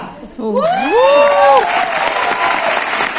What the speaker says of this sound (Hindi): अरे क्या ताली बजा रहे हो?